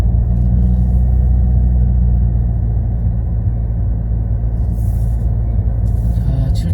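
A car climbs the spiraling drive-in ramp of a multi-storey knowledge industry center from the sixth to the seventh floor, a loud, steady low engine and road rumble heard from inside the cabin, with no talking.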